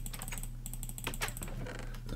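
Rapid, close clicking from a computer mouse being clicked on a sieve in the Minecraft modpack Agrarian Skies, with short sharp taps repeating in quick irregular bursts and no voices.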